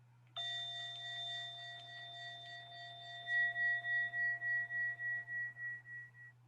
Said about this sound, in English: Until you hear the sound of the bell.